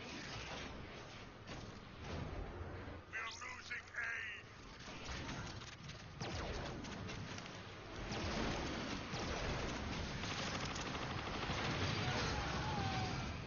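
The corrosive slime cannon fires repeatedly in Transformers: Fall of Cybertron, a dense stream of gunfire-like bursts mixed with mechanical game effects that carries on throughout.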